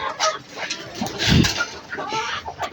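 A hen clucks close by in a home yard, a few short throaty clucks with one louder low burst midway, while a voice talks quietly in the background.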